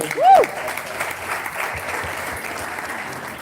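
Audience applause at a meet-and-create gathering in Ghana, a steady, fairly quiet wash of clapping from a room of people, with a brief voice or sound burst at the very start.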